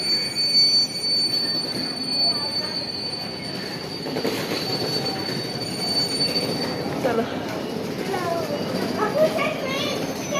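A train rolls through a station during a temple fair outing, with prominent squealing wheels and rattling carriages, while people talk in the background.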